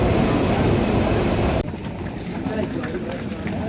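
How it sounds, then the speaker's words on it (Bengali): A passenger train on the line toward Lumding rumbles steadily with broad rolling noise that drops and shifts partway through, close and loud, with people talking over it. "আমরা ট্রেন আই গেছে দেখাই আমি"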